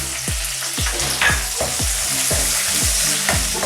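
Ginger, garlic, coriander and curry leaves sizzle loudly in hot oil in a pan for a Kerala egg roast, with steady broadband frying hiss and regular scraping stirs roughly every half second.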